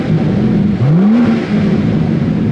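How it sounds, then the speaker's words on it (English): A BMW M760Li's V12 engine in sport mode revs once with a rising sweep, standing out clearly over a steady idle, close and loud. "That's a V12 sound,"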